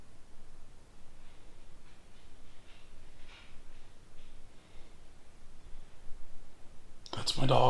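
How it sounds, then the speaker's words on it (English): A dog inside a private house in Ohio gives a sudden, loud snort near the end, after several seconds of faint, quiet room noise. "That's my dog again."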